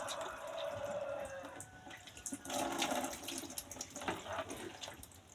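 Water is poured gently from a small basin during a bath, splashing and trickling softly. Quiet intermittent pours come and go, with a fuller splash in the latter half.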